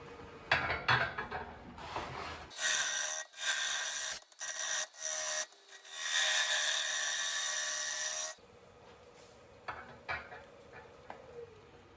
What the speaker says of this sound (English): we'll come back with a scraper and clean it